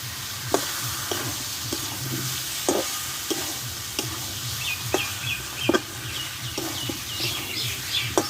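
A spoon stirs Bengali-style potato curry (alur dum) with fresh coriander leaves in a pan, giving a steady soft sizzle broken by sharp scraping clicks at irregular moments, with faint bird chirps in the background.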